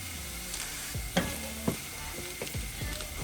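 A cube of butter dropped into a hot pan on a Pit Boss smoker, giving a steady close sizzle with a couple of sharp knocks and faint scraping.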